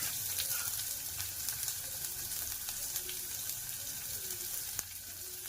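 Dried red chillies and onion frying in hot oil, a steady loud sizzle and crackle up close with occasional small pops, no voices.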